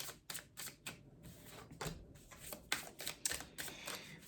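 Tarot cards being shuffled by hand, a string of crisp riffling and slapping bursts that repeat in an uneven rhythm, close and fairly quiet, with no voices over them.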